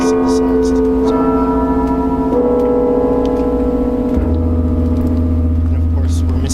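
A very low synthesized bell tone modeled on the Tsar Bell, part of an electronic piece, enters as a deep sustained drone beneath layered ringing bell-like partials and clicks, loud and steady.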